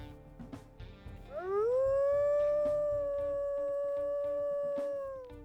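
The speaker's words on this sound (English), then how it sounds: "we'll listen to her howls here too" A single long wolf howl from the video game WolfQuest rises quickly into a steady, sustained tone and holds for several seconds before fading, over faint in-game ambience with soft clicks and chirps.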